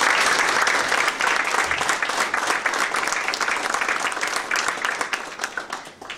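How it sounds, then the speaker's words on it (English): Sustained, loud applause from a Toastmasters gathering honoring a team, many hands clapping steadily throughout and tapering slightly at the end. "I would like to give Powers and his team a big round of applause."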